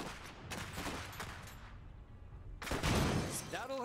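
Gunfire crackles in the real-time strategy game Iron Harvest: dense bursts of rapid shots rise and fall, go briefly quieter mid-way, then return louder, with a voice speaking over the end.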